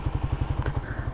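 A 2018 model motorcycle with 220,000 on the odometer and a stock bore, block and piston rings, its engine running with a rapid, even low-pitched pulsing thump, close and loud.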